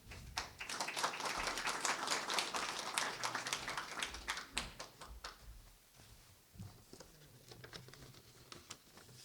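Audience applause at a graduate school opening ceremony as the dean is welcomed to the podium: dense, steady clapping for several seconds that thins into scattered claps toward the end, no voices.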